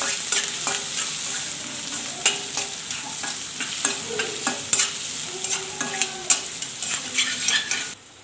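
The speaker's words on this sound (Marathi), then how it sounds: "आता कांदा आपल्याला हलका बदामी रंग येईपर्यंत भाजून घ्यायचा आहे" Onion fries in a pan for egg rice, with a continuous close sizzle and frequent sharp spatula scrapes and taps as it is stirred. There is no talking.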